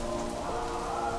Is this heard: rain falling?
yes